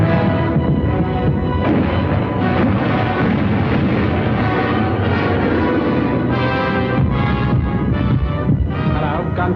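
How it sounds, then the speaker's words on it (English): Distant wartime gunfire and artillery booms roll in the southeast over British airfields and factories, a dense, continuous rumble with scattered bursts and thuds, broad and muffled rather than sharp. "gunfire in the southeast."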